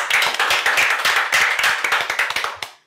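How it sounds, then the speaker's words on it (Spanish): A small group claps quickly and loudly in a radio show studio. Bright, dense claps carry on for a couple of seconds, then thin out to a few last claps and stop abruptly. "Eso merece un aplauso."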